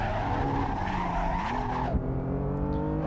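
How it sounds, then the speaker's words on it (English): A BMW M4 at speed on the Nürburgring, its tires squealing loudly through a corner over the strained, shifting drone of the engine, the squeal sliding in pitch before easing off near the end. "love that tire squeal"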